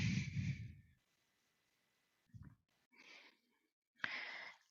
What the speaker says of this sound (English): Deep breathing, keeping nice and tall.